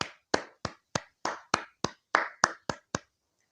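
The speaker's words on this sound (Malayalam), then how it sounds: "1, 2, 3 ക്ലാപ്പ്" Ten sharp hand claps ring out alone at an even pace, each crisp and close with a quick decay, spaced about a third of a second apart.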